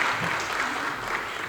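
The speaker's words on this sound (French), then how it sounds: "Et je vous demande de l'applaudir très très fort." Sustained applause fills a parliamentary chamber, a dense, steady wash of clapping from a large assembly, with faint voices blended underneath.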